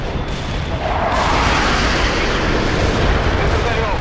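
Continuous heavy artillery barrages in the World in Conflict war game, a dense rumbling roar of overlapping explosions that stays loud throughout the clip.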